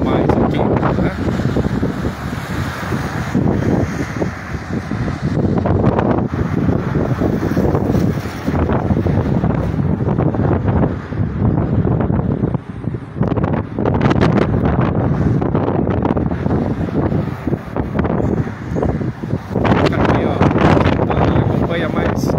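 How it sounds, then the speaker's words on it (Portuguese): Strong wind gusts blow through Santa Bárbara d'Oeste in a late-afternoon storm, raising dust, roaring loudly and steadily with heavy buffeting on the microphone, while someone talks over it. "olha ao vento como vem mais, cada vez mais forte"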